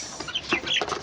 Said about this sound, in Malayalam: ചെറിയ കോഴിക്കുട്ടികളുണ്ട് ഗൈസ്